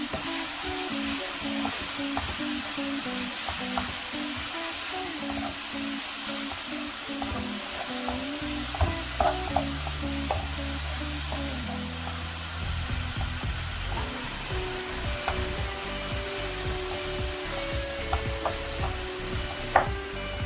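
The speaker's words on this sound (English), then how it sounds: "Give it a good mix," Mushroom filling with chorizo and sausage stirred in a pan, a steady frying sizzle with faint scraping of the spoon running throughout, close and continuous, with background music.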